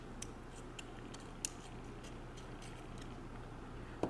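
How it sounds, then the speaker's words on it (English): A small ball bearing clicks in the aperture ring of a Minolta MD Celtic 28mm f2.8 lens during disassembly, giving soft, faint ticks at irregular intervals over a quiet background. "the little ball bearing that provides the clicking sound as it moves back and forth"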